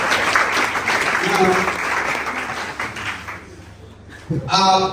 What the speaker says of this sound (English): Put you a round of applause for yourself.